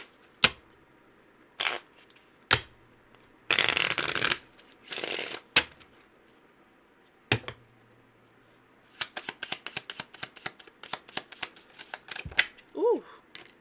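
A tarot deck is shuffled to draw three cards, with sharp isolated snaps, two dense riffling bursts, then a quick rapid flurry of card clicks, all close and alone.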